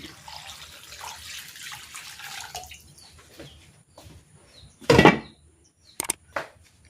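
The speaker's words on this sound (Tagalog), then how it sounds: "Then lalagyan ko ito ng tubig." Water runs from a tap or is poured into a cooking pot holding chicken, onion, ginger, salt and pepper for chicken soup, with a gurgling splash near the middle and short spurts after it against faint kitchen background.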